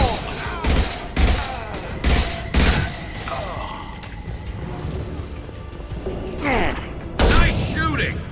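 Loud gunfire in the Mass Effect video game, a series of heavy shots in the opening seconds followed by mechanical clatter and battle noise, with voices calling out amid the fight.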